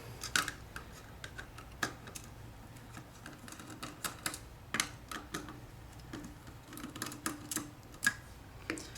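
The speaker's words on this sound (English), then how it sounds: "you first remove the 4 Phillips screws using a number 1 Phillips screwdriver" Four Phillips screws being removed with a number 1 Phillips screwdriver from the battery cover of an SFD-1000. Faint, close, irregular small clicks and ticks of metal on metal, with no talking.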